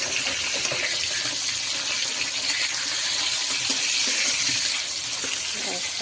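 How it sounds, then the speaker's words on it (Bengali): Bata fish fry in oil in a pan, a loud, steady bright sizzle and crackle that holds close and continuous throughout, with no talk. "দেখো বন্ধুরা, এই যে বাটা মাছ ভাজা বসিয়েছি।"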